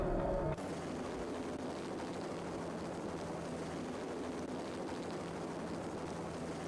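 A helicopter in the video game Max Payne gives off a steady, droning rotor and engine roar that continues unbroken after a brief opening burst, with no speech over it.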